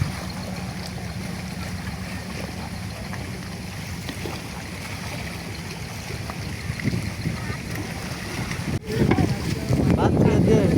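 Steady low rumble of a boat on the Jamuna River, bound for a remote char, with wind and water wash. The sound swells louder and rougher toward the end.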